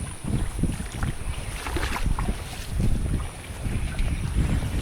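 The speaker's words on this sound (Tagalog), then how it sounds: "hangin at ulan." Gusty typhoon wind and rain from Typhoon Kristine roar steadily outdoors, with a loud, unbroken broadband rush and rumbling buffets against the microphone.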